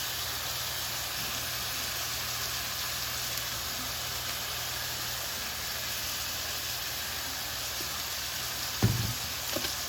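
Ground turkey frying in a pan, a steady, close hiss and sizzle that holds evenly throughout, with a brief knock near the end and no voices.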